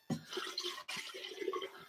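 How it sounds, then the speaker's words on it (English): Tap water runs into a kettle being filled for brewing coffee, a short, close splashing pour with a brief pause midway, no voices. "I will take the water, the kettle, and I'll fill it with water"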